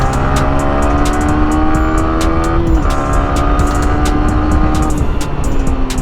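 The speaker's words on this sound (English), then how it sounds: "performance suddenly changes to an angry machine when the VVA kicks in at a higher RPM" Yamaha R15 version 3 sport motorcycle with a variable valve actuation racing engine, held at high RPM with a sharp, strained whine that dips briefly as it shifts, then climbs again, loud and close.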